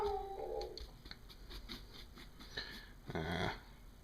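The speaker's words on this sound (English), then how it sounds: "I think you heard my dog upstairs." A dog upstairs lets out growls and whimpering yips, a few short bursts spread across the moment, muffled and somewhat distant, with one louder burst near the end.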